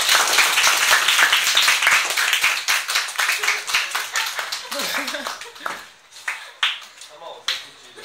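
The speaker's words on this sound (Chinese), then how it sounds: "该掌声鼓励的时候就是要掌声鼓励" A classroom of students clapping together, a dense burst of applause that thins into scattered individual claps, with talking heard in the room.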